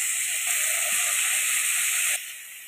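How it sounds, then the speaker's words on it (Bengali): Prawns rubbed with salt and turmeric hit hot mustard oil and fry with a loud, steady, close sizzling hiss that drops off sharply near the end. "তেলটা গরম হয়ে গেছে, চিংড়ি মাছগুলো ভেজে নেব।"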